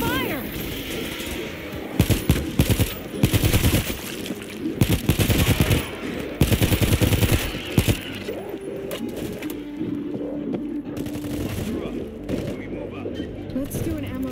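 Gunfire in the zombie shooter World War Z, with bursts of sharp automatic shots in clusters over the first eight seconds, mixed with game sound effects and voices talking, then quieter ambient tones.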